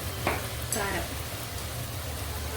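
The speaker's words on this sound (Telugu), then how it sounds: "ఇది ఇట్లా వేగిపోతా ఉంది మసాలా" Masala sizzles and fries in a clay pot for fish curry, a soft, steady crackle heard close with a couple of brief stirring scrapes near the start.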